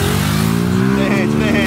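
Motorcycle engine revving hard in a brief, loud, rising burst with speech mixed in.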